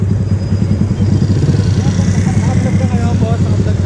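A Raider motorcycle engine with a carburetor and CDI runs loud and throaty under continuous revving during a friendly race, close to the rider, with a steady drone throughout.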